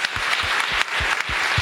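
Audience applause at the close of a creativity panel session in a conference hall, steady dense clapping sustained throughout, fairly loud and without pauses.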